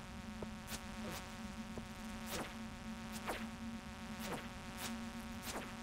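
Bees from a mine level in the video game Stardew Valley keep up a steady insect drone, with repeated short chirping blips at a regular rhythm. It is faint and constant, with no talk.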